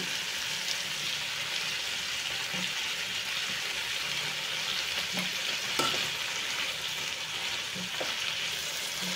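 Mint and coriander leaves frying in a pan on a low flame for mint chutney, giving a steady, soft sizzle throughout with faint stirring scrapes and a few light clinks, no voices.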